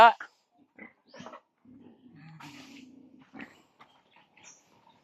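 A pig gives short grunts and squeals close by, in scattered bursts with quiet gaps between them, along with a longer low snorting stretch. Light background sounds come and go between the calls.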